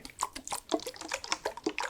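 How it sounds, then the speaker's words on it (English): Gentle water being dripped and trickled in a soft ASMR roleplay, a run of close, quiet splashes and droplets falling in an uneven rhythm, heard alone without any voice. "create some soothing water sounds"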